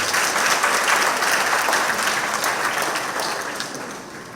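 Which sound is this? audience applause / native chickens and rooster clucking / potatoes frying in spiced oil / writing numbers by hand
audience applause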